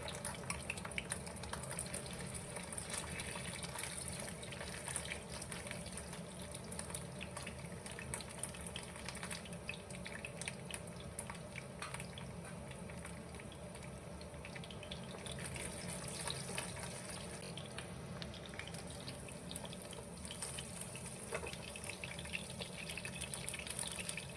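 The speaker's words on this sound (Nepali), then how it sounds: "तेल खरिसकेपछि चाहिँ अब पहिला चाहिँ पर्क ससेजलाई चाहिँ फ्राई गर्दैछु।" Pork sausages frying gently in hot oil, a faint, continuous hiss with light crackling that holds steady throughout with no talking.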